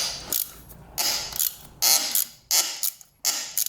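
A socket wrench ratchets on a dirt bike part, giving bursts of rapid metallic clicking in short strokes separated by pauses, close and fairly quiet.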